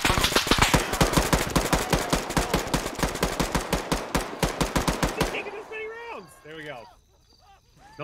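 Rapid automatic gunfire in the Arma military simulation game, a long fast burst of close, loud shots in an even rhythm, then it stops and a voice shouts over quieter background.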